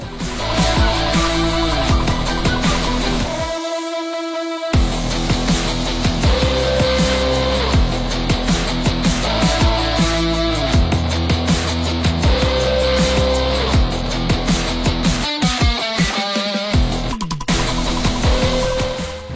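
A loud drag racing motorcycle engine on a drag bike strip screams up through the gears again and again. Each sharp rev climbs, then drops at the shift, in a continuous high-pitched roar.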